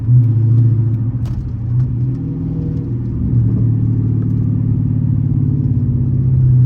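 The engine of a Dodge Challenger SRT 392 Scat Pack drones loudly and steadily from inside the car while driving, a deep rumbling tone that shifts slightly in pitch and swells a little partway through.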